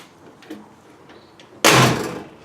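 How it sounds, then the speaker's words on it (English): A car door on a 1962 Cadillac Sedan DeVille under restoration shuts with a single loud, close, solid slam after a few faint soft clicks and handling noises. "doors shut good"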